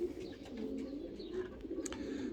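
Racing pigeons coo in their loft, soft low murmuring calls repeating close by, with a few brief higher chirps and bumps from the birds.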